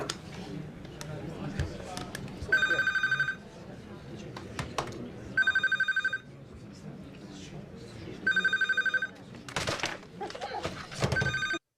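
An office desk telephone rings in repeated bursts of electronic trills, three clear rings spaced a few seconds apart, loud and close, with background office noise and scattered sounds between them.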